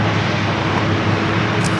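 An airplane taking off from runway 27 at San Diego airport, a steady, continuous loud engine roar with a low rumble and broad hiss holding evenly throughout.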